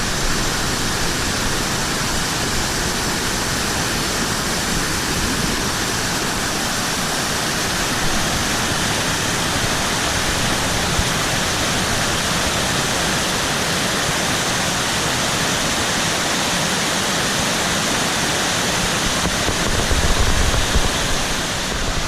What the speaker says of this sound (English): There's a lot of water coming off of this. And that's a long creek.